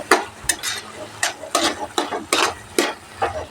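Round brinjal curry being stirred in a pan as chilli powder, coriander powder, garam masala and turmeric are mixed in: close, repeated scraping strokes in an uneven rhythm over a soft sizzle, with no talk.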